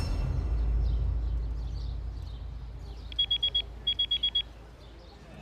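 A telephone rings in a home scene, two short bursts of rapid electronic trilling against a low, quiet room background.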